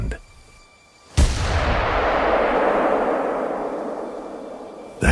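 A single loud gunshot from an open-world video game, a sharp crack that rolls into a long, sustained echoing boom over several seconds, with another sharp report starting at the very end.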